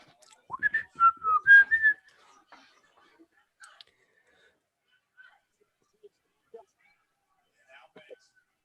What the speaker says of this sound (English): someone's whistling pretty loud